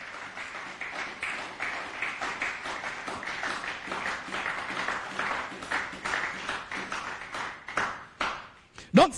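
Congregation in church clapping steadily to acclaim Jesus, a faint, continuous patter of many hands with a rhythmic pulse, voices and singing mixed beneath, heard from some distance.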